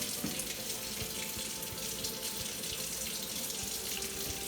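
Hot water runs steadily from a tap, a continuous splashing rush with no talking over it, measured into a cup.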